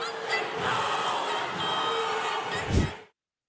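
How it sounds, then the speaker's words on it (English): Roaring crowd in a parliament public gallery backing a traditional Maori haka, a dense, sustained mass of shouting voices with a sharp louder burst near the end before cutting to silence. "launching into the traditional Maori haka, backed by a roaring crowd in the public gallery"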